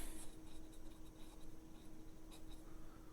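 A marker scratches across masking tape while a bottle of homemade kumquat syrup is labelled, a quiet, close, uneven squeaky scribble of short strokes with no talking.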